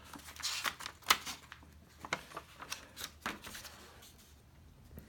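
Quiet, close handling of the stiff paper of folding engraved plates in an 1827 leather-bound architecture book, with soft rustles and a few crisp flicks and rubs, unevenly spaced.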